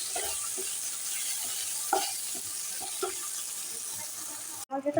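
Chopped tomato salted in a pan, cooking down for chana dal, gives a steady soft sizzle and bubbling with a few light stirring knocks, close and continuous, with no talking.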